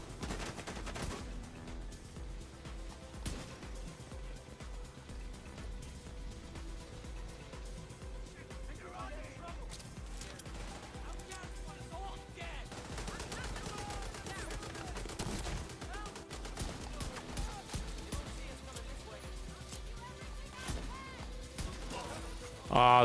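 Steady enemy gunfire in The Division 2, a continuous crackle of rapid shots held low in the mix beneath a player's ongoing commentary.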